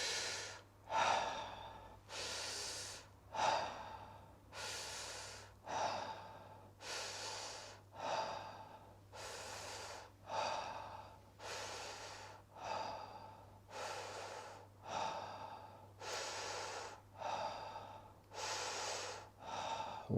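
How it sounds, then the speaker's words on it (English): Deep rhythmic breathwork breathing, each full inhale and exhale rising and falling in a steady cycle about every one and a half seconds, close and audible over a low hum, with no talking. "And then we'll start the breathing."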